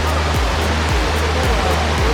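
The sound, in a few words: Tumalog Falls waterfall in Cebu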